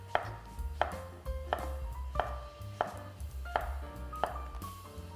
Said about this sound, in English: So just cut in half and cut diagonally like that.